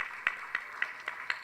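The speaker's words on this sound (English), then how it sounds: "I think they deserve a big round of applause" Clapping at a graduation ceremony: five evenly spaced, sharp claps come through faintly, as if from a single pair of hands rather than a full crowd.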